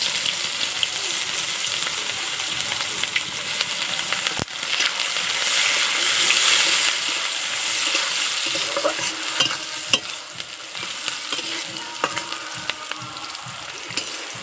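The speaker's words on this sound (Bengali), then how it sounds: "কুচিয়ে রাখা পেঁয়াজগুলো দিয়ে দিলাম।" Chopped onions frying in a pan with cinnamon, cardamom and cloves: a steady, close hiss of sizzling oil runs throughout, broken by occasional scraping and stirring knocks.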